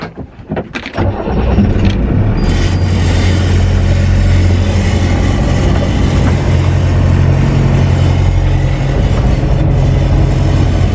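A sailboat's inboard engine cranks over and then settles into a steady, loud, close droning hum that runs unbroken throughout, with no voices.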